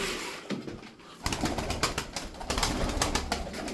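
Performing pigeons coo close by in soft repeated bursts, mixed with light rustling from the birds.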